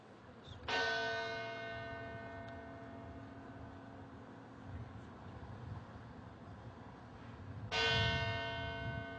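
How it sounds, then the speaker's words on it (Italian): Church bell in Piazza dei Signori, Treviso, tolling twice about seven seconds apart, each strike ringing out and decaying slowly over quiet city ambience with faint traffic. "La campana di Piazza dei Signori a Treviso suona nel silenzio della città che si ferma per 7 minuti"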